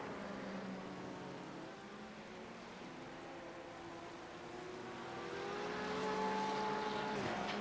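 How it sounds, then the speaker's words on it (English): A Benetton-liveried LMP2 race car in the iRacing game approaches with a steady engine drone that swells louder toward the end, heard alone without talk. "Stop the car's approaching. This one's the Benetton liveried LMP2 that has no chill."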